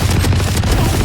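Loud, close gunfire in a shooting video game, a dense rapid burst of booming shots layered over one another with no pause, no voices heard.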